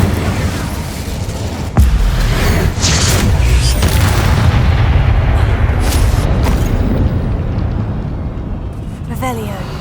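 Expulso spell explosions in Hogwarts Legacy, a sudden loud boom followed by a long rumbling roar and further bursts, with a voice speaking over the blasts.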